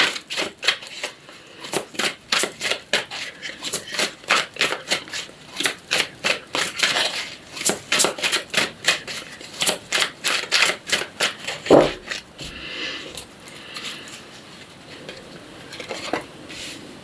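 A deck of psychic tarot cards shuffled and handled close up, a rapid rhythmic series of crisp riffling slaps and flicks, then softer sliding card noises.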